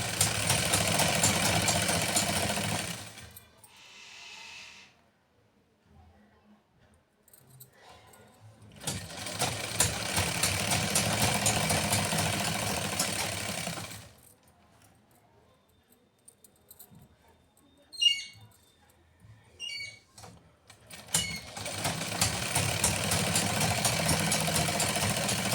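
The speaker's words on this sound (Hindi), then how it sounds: "तो अब राउंड में सिलाई लगाते हैं।" Sewing machine stitching a salwar, running steadily in three long bursts separated by quiet pauses with small handling clicks, close and fairly loud, with a little talk in the gaps.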